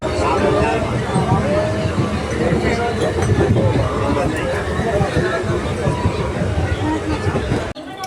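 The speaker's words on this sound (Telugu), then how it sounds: "ఇదే నా ట్రైన్." A train at Tambaram railway station gives a steady, loud rumble and rattle throughout, with a crowd's chatter mixed in, then cuts off abruptly near the end.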